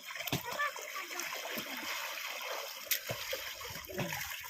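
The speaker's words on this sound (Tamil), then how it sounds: "நீச்சல் அடிங்க பார்ப்போம்" Water splashing and sloshing as people swim and play in a bath on a hot day, steady broken splashes with a few sharper slaps, while voices talk nearby.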